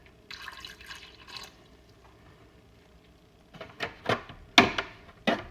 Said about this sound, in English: top off these strawberries with the distilled water so that they can thaw